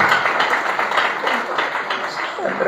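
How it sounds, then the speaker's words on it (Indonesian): A church revival congregation claps for God in a lively, fairly loud patter of many hands, with voices mixed in under the clapping. "Tepuk tangan dulu untuk Tuhan."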